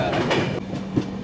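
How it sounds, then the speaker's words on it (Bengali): A Kharagpur–Howrah local train rumbles past with a loud, near roar and a few rhythmic clacks of the wheels on the rails. "Kharagpur Howrah local train"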